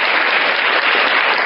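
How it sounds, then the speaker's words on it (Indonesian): Dense, loud audience applause at a religious lecture gathering, a continuous wash of clapping with no voices over it for a brief moment. "Tepuk tangan."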